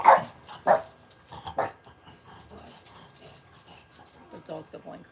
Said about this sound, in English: The dogs are going crazy because somebody passed by that they didn't like.